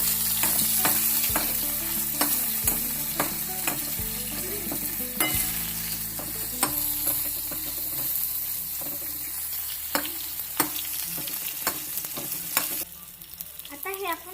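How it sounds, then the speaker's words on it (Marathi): Tomatoes are stirred and fried in a pan for spiced masale bhat, with a continuous close sizzle broken by repeated scraping, clacking strokes of a spoon against the pan, and the frying hiss easing toward the end. "आता आपण टमाटे टाकून याला हलवून"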